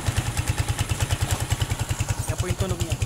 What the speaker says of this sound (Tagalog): Napakaingay po para may lato-lato sa loob ng makina.